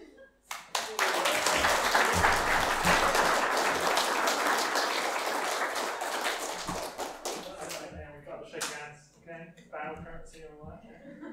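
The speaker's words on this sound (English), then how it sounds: "we'll clap each one individually because that'll make it last a bit longer" A church congregation at a family service claps for one individual, a dense burst of applause that swells quickly, holds for several seconds and then thins to scattered claps, with voices talking over the fading end.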